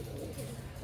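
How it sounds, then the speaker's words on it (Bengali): A pigeon gives a short, soft, low cooing call at close range, one brief throaty burst, with no talk over it. "ফটকার ওপর পায়রা আছে"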